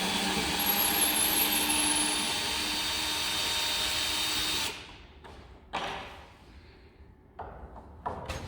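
A power tool drives out screws from the side of a metal AGV shipping box, whirring steadily for several seconds, then breaking into short separate bursts as individual screws are released, close and moderately loud.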